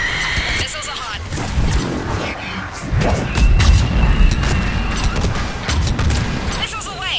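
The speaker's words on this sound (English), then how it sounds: "Missiles are hot." Missiles launch in Mass Effect 3 as a loud, continuous barrage of whooshing booms and blasts, with rising whistling streaks at the start and end.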